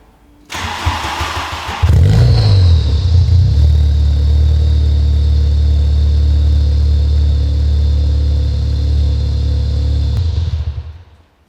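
A Volkswagen Golf GTI rally car engine cranks and catches, then settles into a loud, steady idle close by the exhaust before cutting off at the end.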